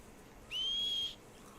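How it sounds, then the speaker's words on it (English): A single sustained whistle to call a horse in the video game Red Dead Redemption 2, a clear steady high tone lasting about half a second over a quiet background. "how do I Short bit. whistle for my horsey?"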